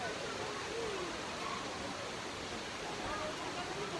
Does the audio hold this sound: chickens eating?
no